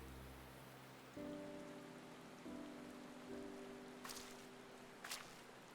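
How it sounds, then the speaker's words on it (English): Steady rain patters softly and evenly in a Final Fantasy XIV scene, a faint wash of falling drops under low game tones, with a couple of brief brighter splashes near the end. "It started raining as I started talking to her."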